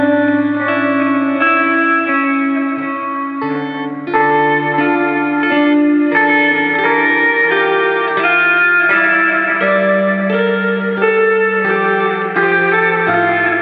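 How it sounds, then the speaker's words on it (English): A guitar runs through an effects pedal with delay and reverb pushed by added gain, giving sustained, distorted chord tones that smear and echo into one another at a constant loud level, with no talking. "going to introduce some gain to the delay and reverb."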